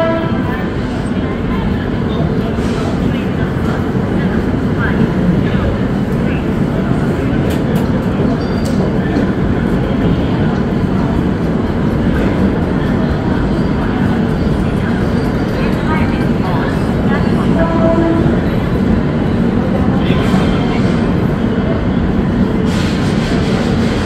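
The Mithila Express stands or moves slowly at a Muzaffarpur Junction platform, with a steady low rumble and murmuring voices from the surrounding station crowd throughout.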